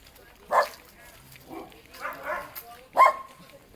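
Two or three sharp dog barks ring out at moderate distance, spaced apart, with low voices and outdoor background noise in between.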